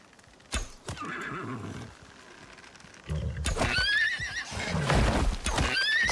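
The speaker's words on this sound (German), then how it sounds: "Es ist ein Pferd." A horse in the survival game Icarus lets out loud, shrill whinnies close by, with a softer snort and hoof clops earlier, alone without talk.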